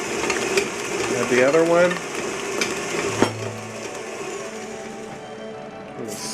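An electric mixer whirs while beating an egg into banana cake batter, a steady mechanical hum with brief louder surges, as a person talks over it.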